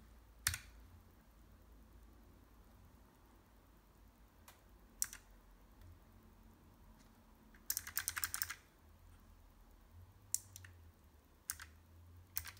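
Sparse keystrokes click on a Keychron K1v4 mechanical keyboard, with single taps and one short quick flurry, close and fairly quiet against a faint background hum.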